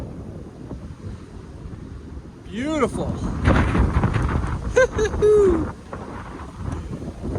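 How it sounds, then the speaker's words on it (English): Strong wind on a mountain top along the Appalachian Trail buffets the microphone with a loud, gusty low rumble that swells partway through, while a person speaks briefly over it. "It's windy as heck up here."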